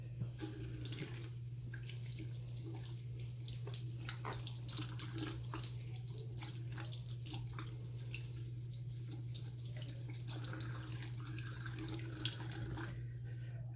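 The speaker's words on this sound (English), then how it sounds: "I can still feel there's some soap in there, so I'm gonna give it one more rinse" Faucet water runs steadily over a soapy shaving brush during a final rinse, a continuous splashing stream with small drips and gurgles, close and fairly quiet, with no talking.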